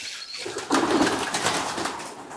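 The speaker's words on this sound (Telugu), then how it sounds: "మామూలు ఇవి సాదా పావురాలు మోస్ట్లీ" Ordinary domestic pigeons coo close by, giving one low, soft burst of cooing against a dense, noisy background of birds.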